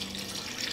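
Water poured into a cooking pot while making mutton arvi gosht, a steady soft splashing stream that runs continuously for under a second at low level, with no voices.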